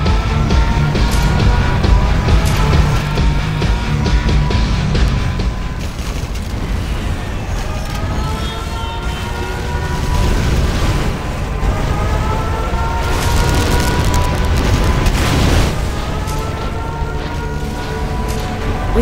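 A nuclear missile launch and detonation in the Red Alert strategy game, heard as a loud, sustained roaring rumble with heavy booming swells that keep going for many seconds, layered over a tonal backing.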